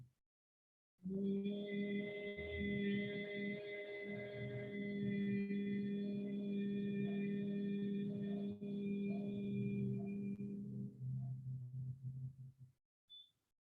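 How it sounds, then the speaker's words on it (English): Humming exhales of Bhramari pranayam, the bee-like breathing of yoga, come from a group at a school yoga day session, a steady drone held for several seconds and then trailing off into quiet. "While exhaling out, you have to make a sound of a humming bee."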